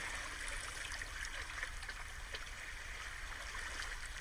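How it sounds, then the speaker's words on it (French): Steady seaside water wash with a soft, continuous rush of gentle waves and trickling, even and fairly faint throughout, no voices. "la danse de l'eau et des vagues"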